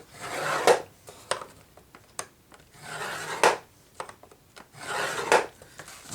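A tool scores a book cover to form a one-inch spine, giving three slow, rasping scraping strokes, each a rough drag ending in a sharper tick, with lighter taps in between.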